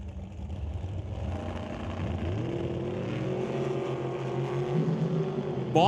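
A drag racing car with a 615 cubic inch big block Chevy engine idles and revs at the track, a low throaty rumble building steadily in level, heard from a moderate distance with no talk.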